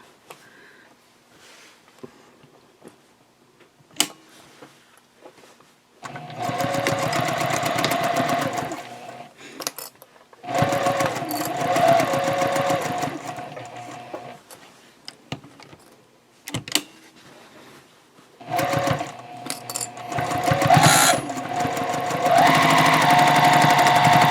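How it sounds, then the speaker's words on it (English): A home sewing machine runs in three bursts, stitching across the bottom seam of a fabric drawstring tote bag with a half-inch seam allowance and backstitching at each end, its steady whir close and loud with short quiet pauses between runs. "now we can sew with the 1/2 inch seam allowance across the bottom"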